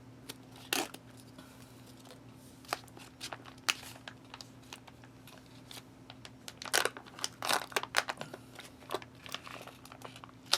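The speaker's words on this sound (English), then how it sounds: "We'll go ahead and use our pull tabs." A foil pouch from a British ration pack, holding tuna pasta, is torn open by its pull tabs, giving close crinkling, crackling rips in irregular bursts over a faint steady hum.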